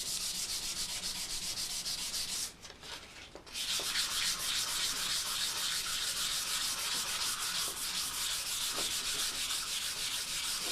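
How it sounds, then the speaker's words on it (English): Hand sanding a rusted gun barrel with 400 grit sandpaper, a loud continuous rhythmic rasp of back-and-forth strokes up close, briefly pausing once before resuming. "Now we're only going to sand the areas that need to be sanded."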